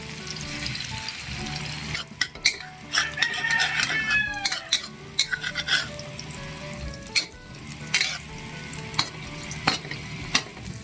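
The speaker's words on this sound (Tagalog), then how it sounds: "Pipirito tayo ng itlog." Egg frying in a pan alongside onion and garlic for a sardine omelette, a steady close sizzle broken by sharp utensil clinks and scrapes, with a watery hiss like a running tap.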